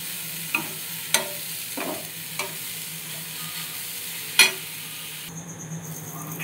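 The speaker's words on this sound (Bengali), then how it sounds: "দেখতেই পাচ্ছ আমি গাজরগুলো ঘি দিয়ে ভালো করে ভাজতেই আছি" Carrots frying in ghee for a carrot kheer, a low steady sizzle broken by a few sharp, distinct scrapes of a spoon stirring the pan, close and alone with no talking.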